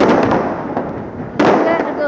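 Fireworks crackle and bang on New Year's Eve in Nijmegen, with a loud, close burst near the middle over a continuous wash of distant popping, while people talk.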